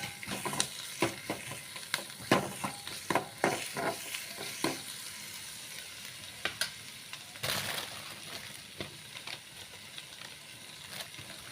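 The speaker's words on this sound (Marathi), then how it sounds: "अद्रक लसूण आपण बारीक केले ते आपण त्यात टाकायचं आहे मिक्स करून घ्यायचा आहे" Chopped ginger and garlic tossed into hot oil in a pan, a steady sizzle broken by repeated scraping and clinking strokes of a spoon as they are mixed, close and fairly loud.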